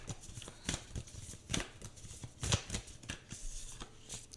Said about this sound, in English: So now we're going to go ahead and get another card from this self-care wisdom deck.